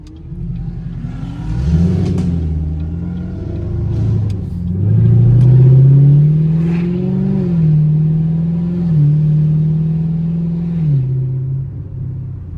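Loud Camaro engine in city traffic revving and accelerating, deep rumbling surges rising and falling through several throttle pulls, close and alone without talk.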